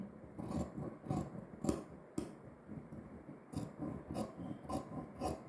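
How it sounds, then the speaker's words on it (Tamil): Scissors snipping through blouse fabric while cutting a curved line, a series of quiet close crisp cuts and rustles in uneven bursts, with no talk. "இப்படியே வளைவாக வெட்டிக்கிறீங்க"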